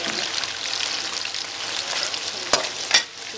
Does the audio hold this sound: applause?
no